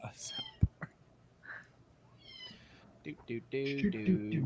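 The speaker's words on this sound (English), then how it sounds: "Yeah, the cat is real." A house cat meows several times, loud and close, in drawn-out calls, while people talk quietly and laugh between and over the cries.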